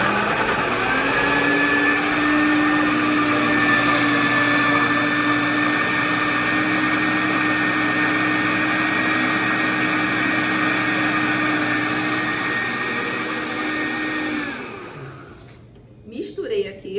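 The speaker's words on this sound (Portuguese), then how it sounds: "Vou bater aqui para misturar, um pouquinho de barulho" Electric mixer beating liquid cake batter for a festa junina cake, a loud, steady whirring drone held for about fifteen seconds before cutting off, followed by a few faint clatters.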